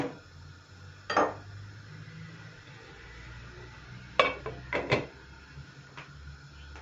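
A lid lands on a pot of cooking noodles (erişte). The clip holds several sharp metallic clinks and knocks, one near the start and a cluster later, close and fairly loud over a quiet kitchen background.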